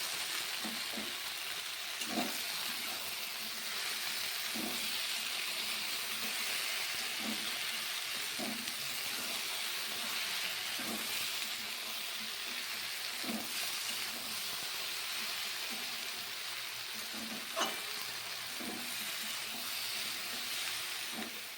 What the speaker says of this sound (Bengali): কেটে রাখা পেঁয়াজ কুচি আর তার সঙ্গে কিছুটা পরিমাণে কাঁচা লঙ্কা এবার ভালো করে আমরা নেড়ে ফেলে নেব